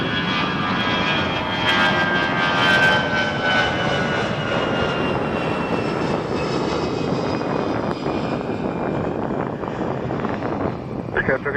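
Airliner engines roaring at Toronto Pearson Airport, a loud, sustained broadband rumble with a faint high whine that slowly fades, heard outdoors with some wind buffeting and no clear talk.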